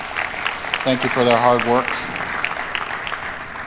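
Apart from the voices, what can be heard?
audience applause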